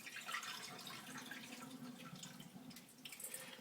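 Rinse water runs off brown rice in a pot without a strainer, a soft, quiet splashing and trickling pour with a few drips, heard alone.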